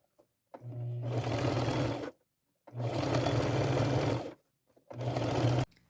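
A sewing machine stitching elastic strips runs in three close, steady bursts, each a whirring hum lasting a second or two, separated by brief pauses.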